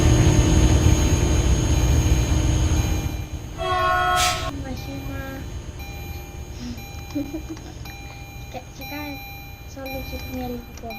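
A Roblox video-game train rumbles steadily, then a horn blares briefly and rises again in short tonal bursts, with a voice talking underneath.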